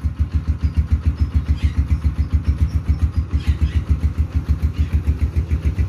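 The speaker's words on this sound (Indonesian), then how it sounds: "Ini emang setelan settingan motor halus ramah lingkungan GL160 ya" A Honda Mega Pro GL160 motorcycle engine idles steadily nearby, a smooth, even low thumping pulse that runs unbroken throughout with no voices.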